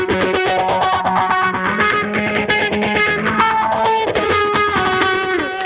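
An electric guitar runs through a heavily distorted effects patch in the style of Muse's Showbiz, playing sustained, buzzing notes that shift pitch and slide, loud and continuous.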